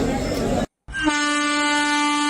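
A train sound effect in a Bengali ghost story: a dense rumbling passage, a brief silent gap, then a loud sustained train horn that holds to the end.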